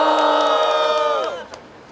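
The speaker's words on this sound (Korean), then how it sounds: "참석하신 동지들의 박수와 함성으로 시작해 보도록" A crowd at a rally-style press conference shouts together in a loud sustained cheer that breaks off after about a second and a half, leaving a few scattered claps.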